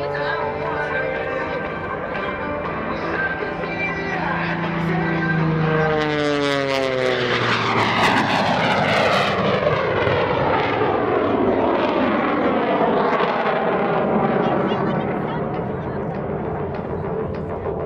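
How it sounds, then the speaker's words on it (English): A propeller airplane with a 450-horsepower radial engine, supplemented by a CJ610 jet engine, roars past close by at an airshow, its pitch dropping sharply as it passes, then fading into a steady drone. "That radial engine producing 450 horse"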